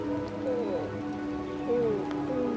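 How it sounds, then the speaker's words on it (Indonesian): Steady rain falls on a surface at close range, an even wash of patter with a few tonal sounds drifting over it and no speech. "Kalau sekarang udah hujan"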